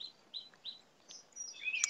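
Birds chirp and tweet in a park, faint and somewhat distant, with short high calls repeating at irregular intervals over quiet background and a brighter cluster of calls near the end.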